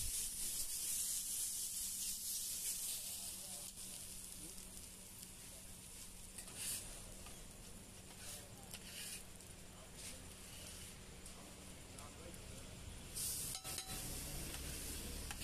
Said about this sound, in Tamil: நம்ம வெட்டி வச்ச வெங்காயம் தக்காளி கருவேப்பிலை மூணையுமே கல்லில் போட்டு கொஞ்சம் நல்லா ஃப்ரை பண்ண ஆரம்பிச்சிடலாம்